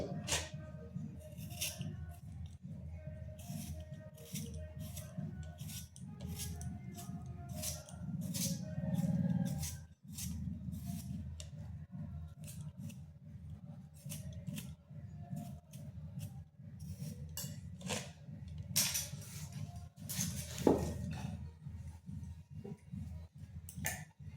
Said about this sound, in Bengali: আলুটাকে কেটে নিচ্ছি এইভাবে ছোট ছোট টুকরো করে নিচ্ছি